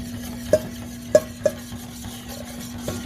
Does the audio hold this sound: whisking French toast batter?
yes